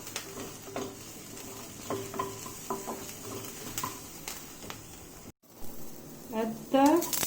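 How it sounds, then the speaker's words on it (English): Onion sauteing in ghee and oil in a kadai, a quiet sizzle broken by spoon scrapes and light clinks, with talking over it and a brief gap near the end. "Let us saute the onion till translucent."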